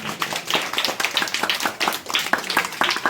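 Audience at a Ganesh Chaturthi celebration clapping loudly, a dense, continuous burst of many hands with uneven sharp claps throughout.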